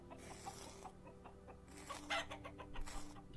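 Chickens in the video game Vintage Story cluck in a quiet, irregular series of short calls, with fowl noises rising slightly toward the end.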